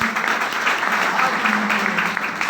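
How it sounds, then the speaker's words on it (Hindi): Crowd applause at a talk on soil and farming, a continuous burst of many hands clapping at fairly close range, steady throughout with a faint underlying hum. "जोरदार तालियां दोस्तों"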